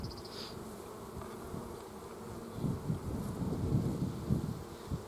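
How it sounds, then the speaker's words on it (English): Honeybees hum inside an opened hive, a low, continuous buzz that swells and grows busier in the second half, with faint breezy noise across the microphone. "But I got all the bees on this side."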